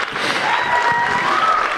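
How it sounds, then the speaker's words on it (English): An audience at a spring middle-school concert applauds steadily in a continuous, fairly loud wash of clapping, with a faint whistle or cheer rising above it. "You guys can clap too for them."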